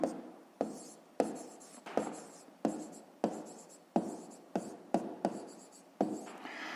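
Pen strokes on paper while working a fifth-grade math exercise by hand, with about a dozen sharp, close scratching bursts in a loose irregular rhythm and no talking.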